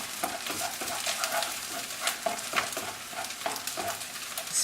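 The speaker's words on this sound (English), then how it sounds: "Just give it a little stir." Fried rice with cooking egg stirred in a hot pan, a steady sizzle punctuated by repeated scrapes and taps of a utensil against the pan, close and fairly loud with no talk.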